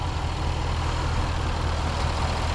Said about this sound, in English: Supercharged V8, 518 horsepower.